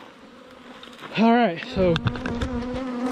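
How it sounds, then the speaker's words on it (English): A swarm of honey bees buzzes steadily nearby while someone talks briefly over it. "this is the swarm"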